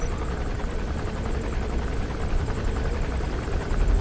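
Helicopter in the video game Metal Gear Solid V: The Phantom Pain, a steady loud rotor drone with low thumping that holds throughout, no voices over it.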